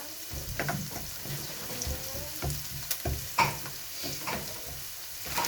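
Onions sizzle and crackle in hot cooking oil for a beef lasagna, a steady fry with repeated stirring scrapes and clatters through the pan, close and fairly loud.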